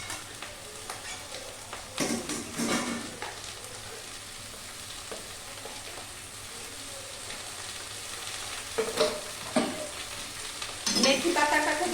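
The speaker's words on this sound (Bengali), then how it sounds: "মেথি পাতা থেকে একটু জল ছাড়বে, একটু ভাজা নরম হবে" Fresh fenugreek (methi) leaves fry with a little salt in a pan on a gas stove, giving a soft steady sizzle. Louder bursts of scraping and stirring come at intervals, with no voices.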